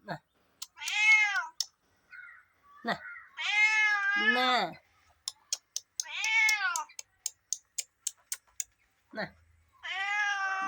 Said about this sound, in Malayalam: ഇതുണ്ട് വേറൊരു പൂച്ച